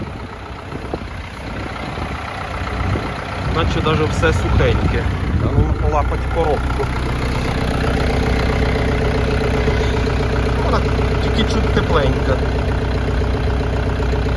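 A tractor engine idles steadily with a low, continuous rumble throughout, in a field during disc harrowing, while people talk nearby over it.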